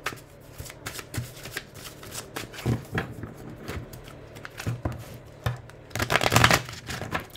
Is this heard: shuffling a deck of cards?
yes